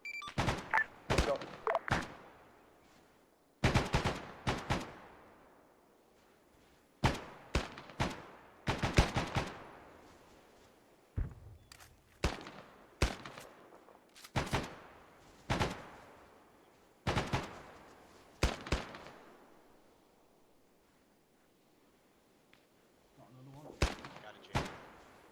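Gunfire from machine gun positions atop a hill during a PAVN assault on Hill 426 in a war video game, heard as repeated sharp bursts and single shots spaced through the scene, with speech at points.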